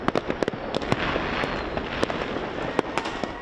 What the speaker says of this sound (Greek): Πυροτεχνήματα, φωτοβολίδες, βεγγαλικά, κροτίδες και βαρελότα.